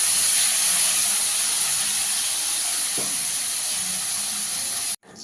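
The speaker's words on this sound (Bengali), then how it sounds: "কুমড়োটাকে একটু ভেজে নেবো ভালো করে।" Pumpkin pieces fry in hot oil in a kadai, giving a steady loud sizzle that runs evenly and then cuts off abruptly near the end.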